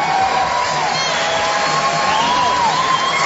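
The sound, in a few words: boxing crowd cheering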